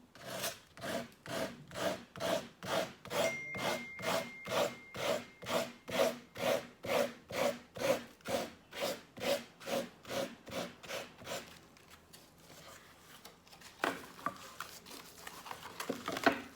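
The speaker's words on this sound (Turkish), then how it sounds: "kesme işleminde zımparayla bu şekilde yapıyoruz." Steady rhythmic back-and-forth rubbing of sandpaper cutting the edge of decoupage paper, around two dozen even strokes, then quieter scattered scraping toward the end.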